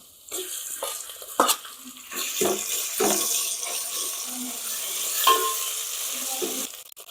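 Roasted onion dropped into a pan of frying garlic and ginger for a village-style chicken sukka, giving a steady sizzle with stirring scrapes and a few sharp clinks, close and moderately loud, no talking.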